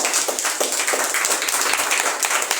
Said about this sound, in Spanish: pues un aplauso, por favor, para él